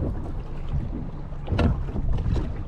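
Wind blows across a small fishing boat at sea off Frontignan, a continuous low rushing buffet on the microphone with a brief stronger gust midway and no voices.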